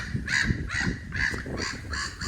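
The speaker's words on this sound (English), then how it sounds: "Loads of different birds" Harsh, honking bird calls at a wetland lake repeat about five times at a steady rhythm, fairly close and loud over a low background rumble, with no speech.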